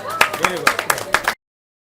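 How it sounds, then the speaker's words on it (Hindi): Children clap in a quick, uneven run of about six sharp claps over roughly a second at a cyber crime awareness talk in Gonda, with an adult voice speaking over them before the sound stops abruptly. "ताली बजाओ भाई बच्चों"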